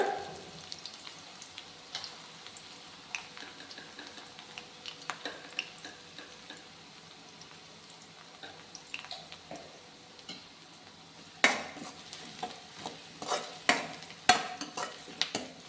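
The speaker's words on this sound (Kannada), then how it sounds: "ಸ್ವಲ್ಪ ಫ್ರೈ ಮಾಡ್ಕೊಳ್ಳೋಣ" Broad beans frying in a pan, a soft steady sizzle with scattered clicks and scrapes of a spatula that grow busier and louder toward the end, no voices.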